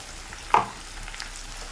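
Ground tomato paste drops into sautéed onions in a hot pan for an okra (bhindi) masala curry, giving one brief splash and burst of sizzle over a quiet, steady frying hiss with no talking.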